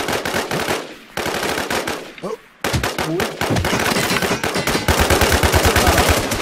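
Loud, near machine-gun fire from the video game Infestation comes in long rapid bursts with short breaks between them, dense and continuous toward the end.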